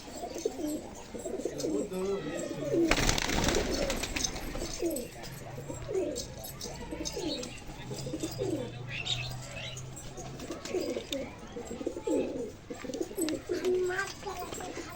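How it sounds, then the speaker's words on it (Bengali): Pigeons coo repeatedly in a loft, with soft rolling calls in a steady rhythm and brief wing flaps, while someone talks over them. "এখানে মালবাই পায়রা রয়েছে।"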